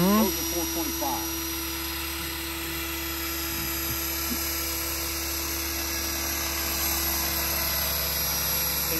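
A Trex 500 RC helicopter flies with a constant high, buzzing whine from its rotors and motor, steady and fairly close throughout, with brief voices near the start.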